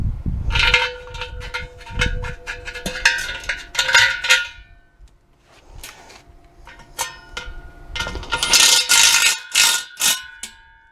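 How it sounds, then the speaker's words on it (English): Sharp metallic clinks and ringing clanks from a star driver tightening a star bolt into a lead shield on a wrought iron gate post, in irregular clusters with short quiet gaps between them. "One thing I do is gently snug that bolt up"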